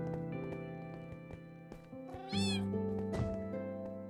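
A cat in the video game Minecraft gives several meows in a row, with one rising, drawn-out cry in the middle, fairly clear over faint background sound.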